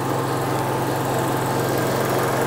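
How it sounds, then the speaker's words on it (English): A Generac generator on a 2001 Rexhall Airbus 3250DSL motorhome runs steadily nearby, with a constant droning hum and a rapid, even engine pulse that never changes. "It's a Generac generator."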